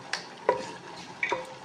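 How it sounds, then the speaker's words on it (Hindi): Onion, garlic and ginger frying in ghee in a pan for saag, with a soft steady sizzle broken by a few sharp stirring clinks and scrapes of a spoon against the pot. "घी डाल दिया, प्याज लहसुन अदरक भी डाल दिया,"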